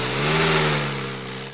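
A jeepney engine in a Filipino animated short revs and holds a steady, droning mid-pitched note close by, swelling slightly, then easing off over a second and a half.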